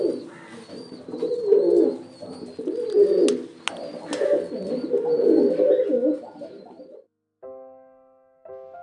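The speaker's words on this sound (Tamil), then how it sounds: "புறா" Pigeons cooing in low, throaty rolling calls, fairly close and steady for about seven seconds before a short electronic tone sequence closes the clip.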